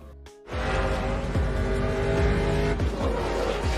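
Race cars roar past during a race with loud engine whine and repeated pitch-dropping pass-bys, close and continuous after a short quiet start.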